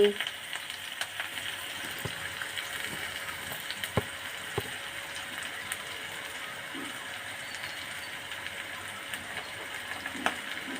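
Steady sizzling of food frying in a pan while cooking crab fry and raw mango dal for lunch, a continuous close hiss with occasional crackles and faint clicks throughout.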